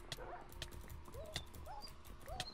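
Dogs in a video game give several short, sharp yips and barks at a fairly quick, uneven pace, sounding moderately close over a busy game soundscape.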